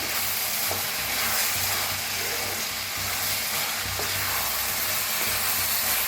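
Ridge gourd curry being mixed and stirred in a hot pan, a continuous close sizzle with spatula scrapes and low stirring rumbles throughout, no voices.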